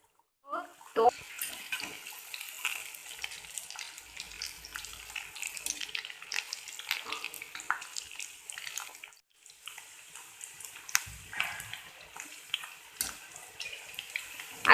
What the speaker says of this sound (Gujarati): હવે આપણું તેલ ગરમ થઈ ગયું છે તો હવે આપણે શક્કરપારા તળી લઈશું